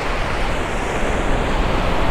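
Strong river water rushes into the sea at Marobá beach, a loud, unbroken roar of churning surf and flowing current, dense and close with wind buffeting the microphone.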